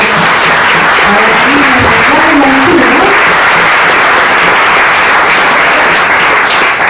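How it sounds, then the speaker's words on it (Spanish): An audience applauds steadily at a public management course class, welcoming attendees from Entre Ríos. The dense, sustained clapping runs the whole length while a voice speaks over it briefly early on. "un aplauso, que se hacen el viaje"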